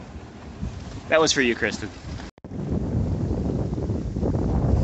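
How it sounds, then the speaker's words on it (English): Wind rushes over a sailboat making about 5 to 6 knots across open sea toward Avalon on Catalina Island, a steady broadband roar that grows louder after a brief dropout, with a voice speaking briefly over it early on. "It's really kind of windy."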